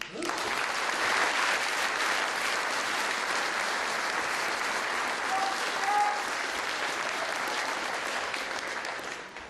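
An audience at a university economics graduation ceremony applauds steadily for about nine seconds, a dense, even wash of clapping from a crowd of people.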